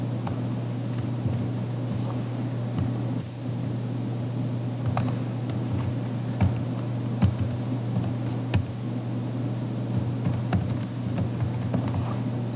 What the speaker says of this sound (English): I'm going to use my pencil to write Allegheny River